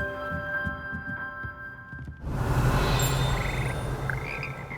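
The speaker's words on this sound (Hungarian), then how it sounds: "Ezek békák." Frogs croak in a Hogwarts Legacy game scene, a low throbbing chorus that starts softly amid ambient hum and swells louder and denser about halfway through, continuing steadily.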